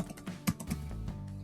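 Quick bursts of keystrokes on a computer keyboard, a short run of close, irregular clicks with a couple of heavier taps, heard alone without talk.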